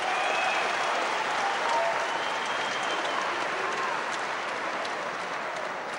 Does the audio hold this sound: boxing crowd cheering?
yes